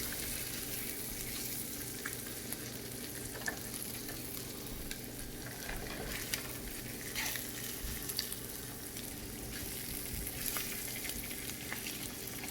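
Over easy eggs sizzle and fry steadily in a pan just after being flipped with a spatula, a continuous close crackle with faint scrapes and ticks and no talk.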